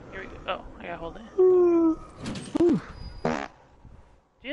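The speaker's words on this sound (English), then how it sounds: "Did you just fart?" A fart blurts out in a short, tonal burst, then a second brief rasp follows, close and loud amid casual talk from gamers in a zombie game.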